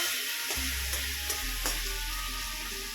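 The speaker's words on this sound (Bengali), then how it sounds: "আমি এখন আবার একটু আলু ভাজা কেটে বসালাম" Sliced potatoes fry in hot oil in a pan, giving a loud, steady sizzle with a few brief clinks of stirring and no voices.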